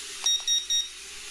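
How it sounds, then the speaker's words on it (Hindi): An RC drone's remote control gives three quick electronic beeps in even succession, close and clear over a faint steady hum, signalling its fast speed setting. "और ट्रिपल बीप"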